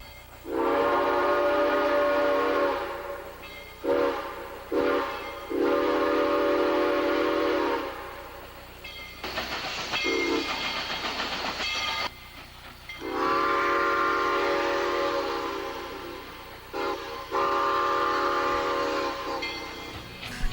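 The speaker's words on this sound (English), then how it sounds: "Here the whistle's being blown at 190 PSI." A Nathan CofG six-chime train whistle blown at 190 PSI sounds in long, loud, sustained blasts, several in a row with brief gaps and a short toot between them, against a steady low background rumble.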